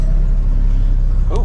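A Ford straight-six engine idles close and loud while warming up, a steady low rumble throughout, with a brief voice near the end.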